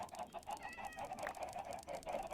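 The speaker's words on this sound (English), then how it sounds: "Nope, just chickens." Chickens clucking in a modded Minecraft-style crafting video game, with steady repeated clucks and a brief crow-like call, close and fairly loud throughout with no talk.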